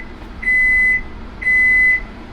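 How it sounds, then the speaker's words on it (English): Microwave timer beeping in a home kitchen during New Haven-style pizza making: two steady, clear electronic tones, each about half a second long and spaced a second apart, loud and alone over faint room hiss. "with the timer on the microwave"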